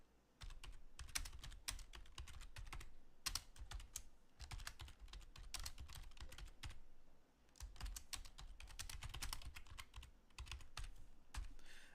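Steady computer keyboard typing in bursts of rapid clicks, separated by short pauses, close and clear with no talking, as someone writes a BASH script on Linux.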